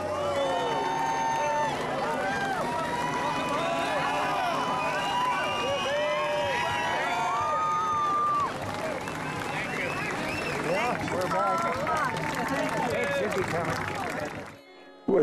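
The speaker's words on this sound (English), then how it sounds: "With the crowd that gave us a welcome on the way back" Welcoming crowd cheering and applauding Honor Flight West Central Florida veterans on their return, a dense, sustained roar of cheers, whistles and clapping close by that keeps going throughout, with voices mixed into the din.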